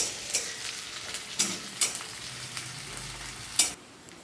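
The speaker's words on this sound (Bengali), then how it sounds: "পেঁয়াজগুলোকে আমি হালকা লাল লাল করে ভেজে নেব" Chopped onions fry in a pan to a soft, steady sizzle, while a utensil scrapes and stirs them in several sharp strokes at irregular intervals, close by.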